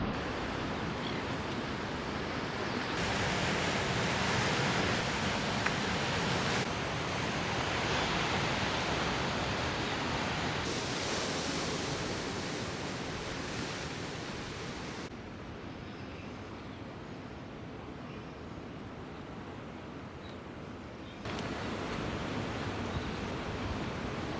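Waves breaking into white water over rocks on a coastline while fishing for galjoen, a steady broadband roar of surf that shifts in level between sections, no voices.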